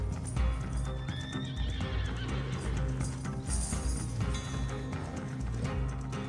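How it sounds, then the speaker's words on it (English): A horse in the video game Red Dead Redemption neighs amid steady clip-clopping hooves and dense game background sound. "I'm gonna name my horse Chloe."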